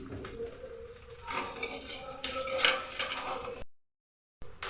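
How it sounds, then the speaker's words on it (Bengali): Ingredients are stirred and fried in a pan with ginger paste and green chilies while cooking mixed vegetable dal, giving a steady soft sizzle with light utensil scrapes and clinks, close by, before a brief drop to silence. "এগুলো একটু ভালো করে নাড়িয়ে ভেজে নিই"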